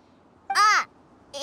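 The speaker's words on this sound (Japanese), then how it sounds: "鳥が鳴いて" Bird calls in the video game Genshin Impact: one clear, arching caw-like call rises and falls, then a second call begins just as the clip ends, both over quiet background.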